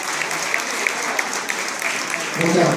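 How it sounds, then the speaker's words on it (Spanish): A crowd applauds after a Lambazouk dance performance on Gran Vía in Madrid, a dense burst of clapping with a few sharper claps standing out and a voice starting to speak near the end. "Un fuerte aplauso, por favor"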